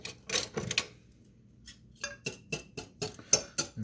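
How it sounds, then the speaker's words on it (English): A whisk beats egg yolks in a bowl for carbonara, giving quick bursts of metallic scraping and clinking in short rhythmic runs, with a brief pause before the strokes resume, close and fairly quiet. "Now what we're going to do is we're going to whisk this."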